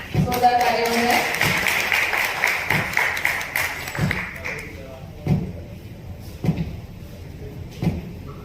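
Audience applause at an honorary doctorate award ceremony, dense clapping under a speaking voice for about four seconds, then fading into a few scattered taps and knocks.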